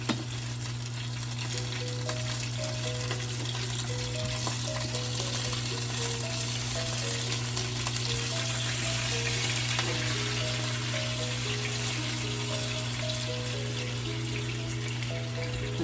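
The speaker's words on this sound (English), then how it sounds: "And my chicken is done." Chicken sizzles and crackles continuously in a pan at close range, a steady hiss of frying with no talking.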